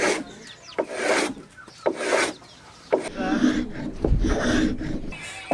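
Wooden walls of a dugout canoe being thinned down by hand: rough, rasping strokes scrape back and forth over the wood in a steady rhythm, close and fairly loud, with breathing between strokes.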